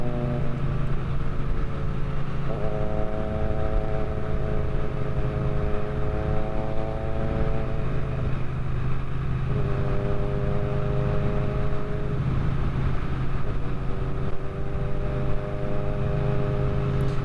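A Triumph Bonneville T100 motorcycle engine idles and revs steadily for the whole stretch, a loud, close, continuous drone whose pitch rises and settles in a few gentle swells, with no talking.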